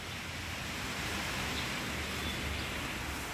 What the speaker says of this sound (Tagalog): Ayan na, guys. Ambon na.